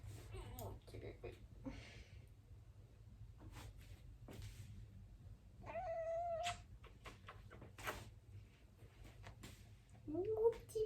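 A pet cat indoors gives a couple of short meows among quiet shuffling and soft clicks, while someone speaks gently to it in a low voice.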